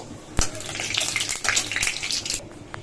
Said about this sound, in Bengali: ফোড়নে দিচ্ছি শুকনো লঙ্কা তেজপাতা আর গোটা জিরে সেগুলো একটু লাল লাল করে ভেজে নেব